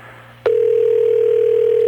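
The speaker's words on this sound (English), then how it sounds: "Why is the phone ringing back?" Telephone line tone on a call, a short click followed by a steady, unbroken loud tone that holds to the end, with no voices.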